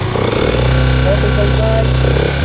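Honda TMX Alpha 125 motorcycle engine running close and loud, holding a steady rev with a slight rise, while someone talks over it.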